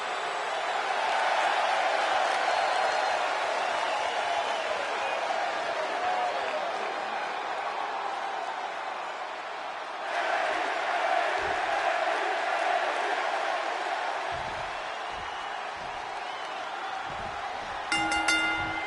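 A hot arena crowd in the WWE 2K26 wrestling video game roars steadily and loudly through a brawl, a continuous wash of cheering that swells partway through.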